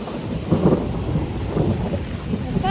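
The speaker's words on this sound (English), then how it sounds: "The thunder." Thunder rumbles low and steady through a rainstorm, with rain pattering on surfaces throughout the short stretch.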